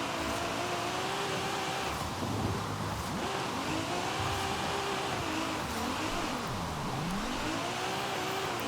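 A drifting car in Forza Horizon 5 on a drift tune, engine revving steadily with wavering pitch and continuous tire squeal from slipping wheels, loud and sustained throughout with no voices.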